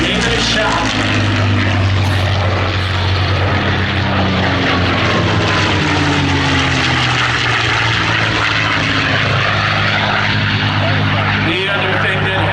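Loud, steady drone of a P-40 propeller warplane engine roaring close by at an airshow for the whole stretch, with a voice faintly underneath.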